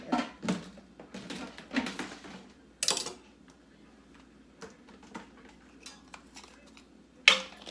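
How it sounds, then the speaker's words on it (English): Dishes clatter and clink as they come out of a kitchen cupboard for a seven-layer dip, with a run of sharp, close knocks and scrapes in irregular bursts and quieter gaps between them. "Let's get some of the dishes out of there."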